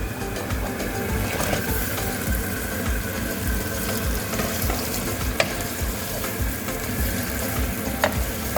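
Chicken and transparent softened onions sizzle and fry in a karahi, a loud, steady, close hiss with occasional stirring clinks and no talk.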